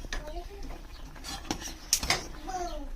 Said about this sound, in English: We need to do 1 big stir to finish it off